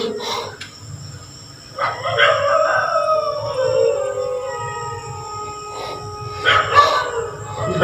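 A dog howls at night at a haunted bungalow in Tamil Nadu, long wavering howls rising and falling over several seconds, moderately distant, with brief low voices and background hum.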